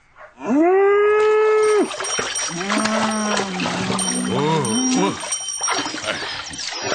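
Calves out in a field moo loudly, with one long clear call followed by several wavering, lower moos close together, backed by a faint trickle of water.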